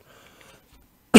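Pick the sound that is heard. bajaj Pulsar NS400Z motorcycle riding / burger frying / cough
cough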